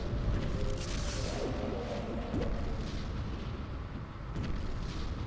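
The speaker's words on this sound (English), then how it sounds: "And just throw a missile up there." Missile fire and explosions in the space strategy game Sins of a Solar Empire, heard as a continuous, dense rumble of booms and blasts without speech.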